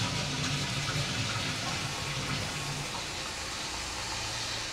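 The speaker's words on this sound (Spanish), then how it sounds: "Aquí le voy ahora a poner un poquito de agua." Tap water pours steadily into a cooking pot used for boiling spinach and pasta, a continuous broad rushing splash that holds fairly even throughout.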